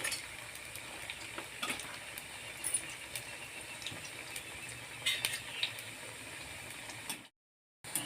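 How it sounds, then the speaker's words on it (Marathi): Raw banana slices fry in hot oil until brown, a steady soft sizzle with a few light clinks of a utensil, ending in a brief moment of silence. "ब्राऊन रंगावरती ही केळी आपल्याला तळून घ्यायची आहे"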